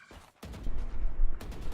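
Gunfire in the tactical shooter Valorant during a collegiate esports match, a wall-bang burst through cover: a short quiet gap, then a loud sustained rattle of shots ending in a sharp final crack.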